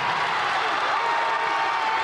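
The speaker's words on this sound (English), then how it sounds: "And they are hearing it from this crowd." A high school basketball crowd at Connally versus Life Waxahachie roars after an and-one, a foul on a made shot. The noise is a dense, steady, loud wash that holds for the full two seconds.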